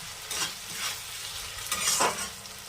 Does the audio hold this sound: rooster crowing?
no